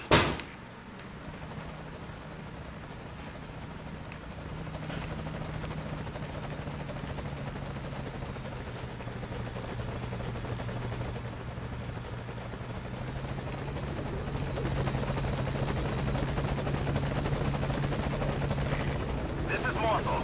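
A helicopter in the video game Metal Gear Solid V: Ground Zeroes approaches a landing zone, its rotor drone steady and moderately loud throughout and growing slightly stronger toward the end, with faint game sounds over it.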